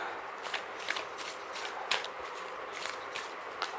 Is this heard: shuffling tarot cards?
yes